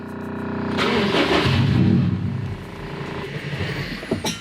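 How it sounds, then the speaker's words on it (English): A Subaru STI with no fuel pressure cranks, catches briefly with a short rough burst, then quickly sputters and dies, leaving faint ticking and scattered small knocks afterward. "I'm gonna go ahead and start it and just let the car die."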